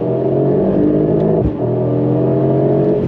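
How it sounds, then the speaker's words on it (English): A 2025 Mercedes-AMG GT 63 accelerates hard in second gear, its engine giving a loud, steady, close-up roar that holds through nearly all of the run, with only a brief dip in the middle. "Second gear, on throttle, here we go."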